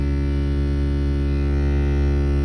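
A steady electrical hum drones from the glovebox of a BMW E92, a constant transformer-like tone with layered harmonics that never lets up, with no speech over it.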